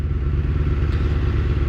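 Suzuki Katana motorcycle with a slip-on exhaust and the baffle removed, idling close by with a steady, loud, low rumble and a slight mechanical clatter.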